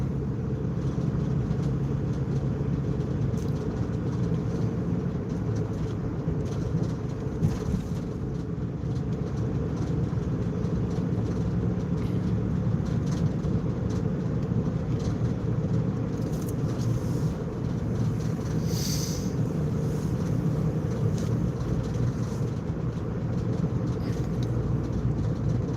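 A car drives along a dark road on a cold night, with a steady low engine and tyre rumble from inside the cabin, constant and unbroken with no talking.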